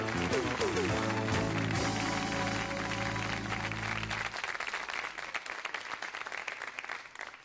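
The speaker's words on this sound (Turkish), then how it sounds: "Alkışlarınızla Nezaket Nezirli." A studio audience on a Barış Manço television show breaks into loud sustained applause, starting over a closing musical flourish and then continuing alone as dense, even clapping.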